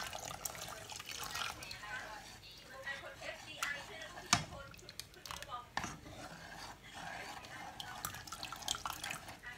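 Water poured into a pot while making Thai tao suan, a steady splashing, trickling pour with small drips and clinks running throughout at moderate loudness.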